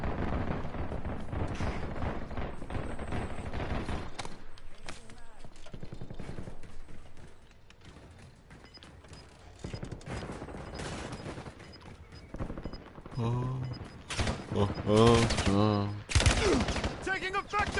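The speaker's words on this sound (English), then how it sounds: "Taking effective fire!" Sustained automatic gunfire and explosions fill a Black Ops 6 Warzone match, dense and loud at first, easing off midway, then returning in heavy bursts with voices talking underneath.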